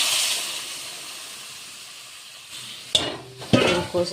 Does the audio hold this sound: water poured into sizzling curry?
yes